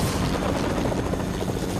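Helicopter in Fortnite, a loud continuous rotor whir with rapid chopping pulses filling the scene, close and steady, with no voices.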